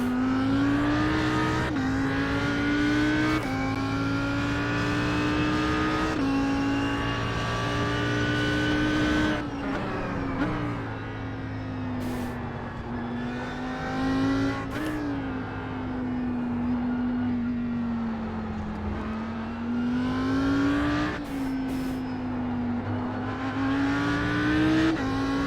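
Audi R8 GT3 racing around the Indy road course in iRacing, its engine droning loud and steady throughout, with repeated upshifts and downshifts rising and falling in pitch over about 25 seconds.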